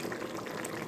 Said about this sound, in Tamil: இப்போ நம்ம ஹையில் ஒரு 5 நிமிஷம் வச்சோம்னா வாங்க, கொதி வந்துருச்சு, கிண்டி விடுவோம்